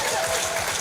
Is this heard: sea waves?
no